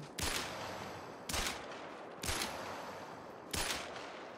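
Four pistol shots fired while hunting in a video game, each a sharp loud crack with a short decaying tail, spaced roughly a second apart with no talk.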